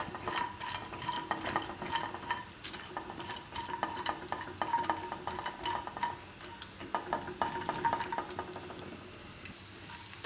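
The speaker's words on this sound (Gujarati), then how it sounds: "તો કાજુને આપણે શેકી લેવું થોડોક કલર એનો ચેન્જ થાય એવા ગોલ્ડન." Cashews stirred and roasted in a pan until golden, a steady soft scraping and light sizzle with repeated spoon strokes, close and fairly quiet, no talking.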